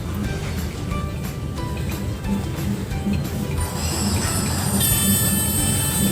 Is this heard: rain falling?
no